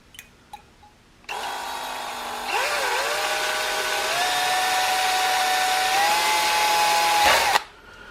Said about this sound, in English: we got about the smallest drill bit I could possibly find. We'll see if we can get us a tiny little hole in here